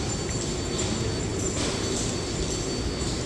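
A New York 7 subway train sits idling, giving off a steady, continuous rumble and hiss with no clear events or voices, an even mechanical drone throughout.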